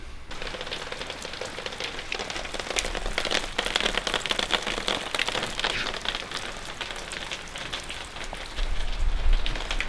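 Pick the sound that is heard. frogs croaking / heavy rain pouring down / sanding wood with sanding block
heavy rain pouring down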